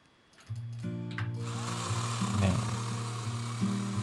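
A budget 12-inch electric chainsaw starts up and bites into pine wood, a steady close whine with a strained, shifting motor tone as the chain cuts, loud and continuous without talk.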